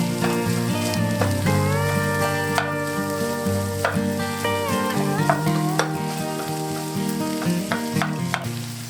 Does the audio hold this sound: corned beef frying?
yes